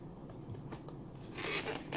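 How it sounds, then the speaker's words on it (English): A zipper on LOL Surprise J.K. doll packaging is pulled up and down, giving a short raspy zip that grows louder over its final half-second, with quiet handling noise before it. "And zipper up and down."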